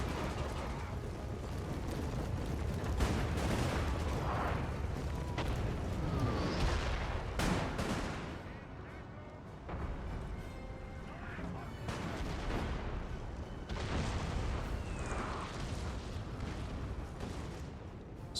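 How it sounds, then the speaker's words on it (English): Cannon volleys boom in the game Napoleon: Total War, dull repeated blasts layered over a dense, continuous battle din at low volume. "Interesting volley by the cannons there."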